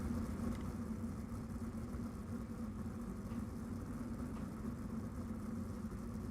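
Dirt 410 sprint car engines rumbling on the grid at a dirt track, a steady low idling roar that holds without a break, moderately loud, with no voices.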